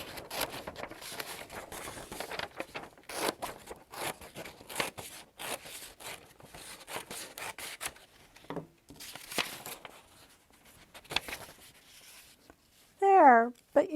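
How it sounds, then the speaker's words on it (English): Scissors cut a strip of paper to length during a craft project, giving short snipping and rustling sounds close by over continuous scraping, with a louder crisp burst near the end. "I'm going to cut it off here to make it the right length."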